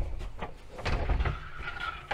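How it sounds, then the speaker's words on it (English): A sliding door in a motorhome bedroom slides across to close, with several soft rolling and knocking bursts in a small interior, fairly close and moderately loud. "You slide across doors to close off your bedroom"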